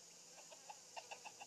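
Chicken in the video game Mimpi Dreams clucking faintly, a few short soft clucks that come quicker and a little louder toward the end, with no other sound around them.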